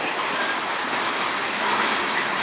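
A train rumbles past on the Strathroy Subdivision, a loud, continuous broadband roar of rail cars with a faint metallic squeal, with no talk.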